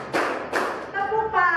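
A school class performs a rhythmic tepuk clapping routine: two sharp, loud group claps spaced evenly, followed by voices chanting together.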